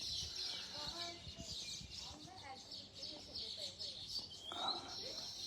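Small birds chirp and tweet in bursts around their nests on a prayer mountain, faint and a little distant, with a person talking nearby over them.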